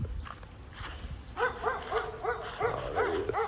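Yappy barks and whimpering yips from a puppy, several short bursts in quick succession, fairly close over a low background hum.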